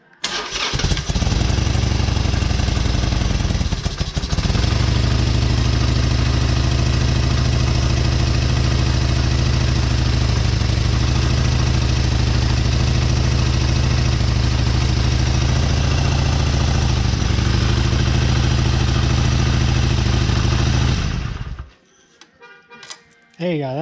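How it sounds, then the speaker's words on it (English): A motorcycle with its stock exhaust starts cold after sitting for two weeks and idles loudly and steadily for about twenty seconds. The engine then cuts off into near silence. "So that's what the stock exhaust sounds like."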